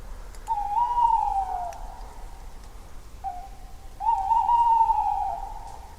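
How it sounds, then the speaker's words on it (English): Owls hoot in a forest at night: two drawn-out, wavering hoots a few seconds apart, clear and moderately near over a faint, quiet background with no talking. "I wanted to do some owl recordings because the place here is famous for them"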